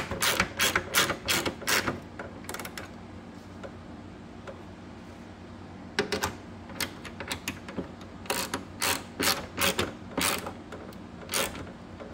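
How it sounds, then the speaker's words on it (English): Ratchet tightening the bracket bolts of a carbon fiber side blade on an Audi R8 V8, heard as bursts of rapid close clicks: one cluster early, a quiet stretch, then more bursts toward the end. "after you tighten this bracket up, make sure to tighten all these 4 bolts up"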